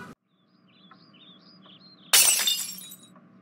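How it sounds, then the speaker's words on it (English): Glass shatters loudly in a house, a sudden crash with a bright tinkling tail after a quiet stretch of faint chirping, all in an animated Plotagon scene. "I hear glass breaking in my house."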